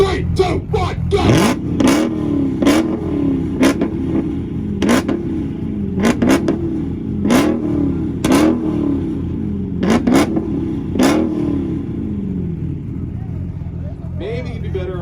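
A Dodge Hellcat widebody revs at a rev battle, with repeated sharp blips and crackles over a steady low engine rumble, loud and close, while crowd voices and talk run underneath.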